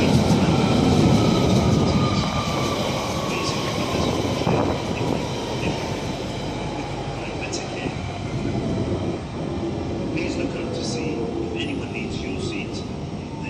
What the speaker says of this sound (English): And my train is just coming in now